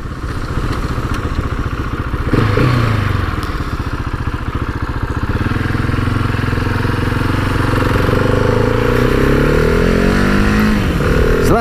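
Husqvarna 701 Supermoto single-cylinder motorcycle engine running while riding, a loud continuous rumble with rising and falling revs and a clear pitch sweep near the end, alone with wind noise.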